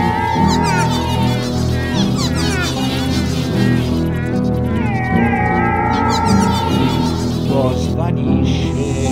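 Cat meowing effects in an Italian song about a black cat: repeated meows and caterwauls woven through loud music with singing.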